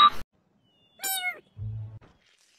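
A single short cat meow rises and falls in the middle, with brief unrelated noises just before and a low hum after.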